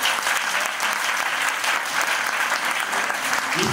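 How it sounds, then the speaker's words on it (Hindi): An audience at a nursing college farewell program for its first GNM batch breaks into loud, steady applause that holds evenly throughout. "तो एक ताली बनती है"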